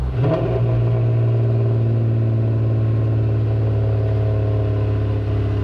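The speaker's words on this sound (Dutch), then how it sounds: "Ja, je hoort de afremmen van de motor." Torpedo-style truck engine with open exhaust on the overrun under engine braking, a loud, steady, close low rumble with strong harmonic drone that holds evenly throughout without pause.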